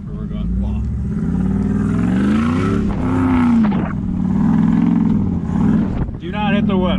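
A Dodge Dakota pickup engine roars loud and close, its revving pitch swinging up and down continuously through a burnout, with a brief dip near the end before surging again; people talk over the engine noise.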